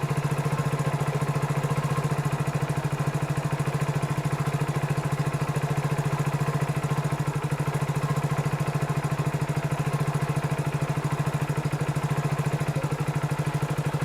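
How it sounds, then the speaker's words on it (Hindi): A Hero Splendor BS6 motorcycle idles steadily on its own after starting with no throttle, a close, continuous low thrumming engine note with an even pulse throughout. "बगैर एक्सीलेटर दिए मैंने छोड़ा है स्टार्ट करके।"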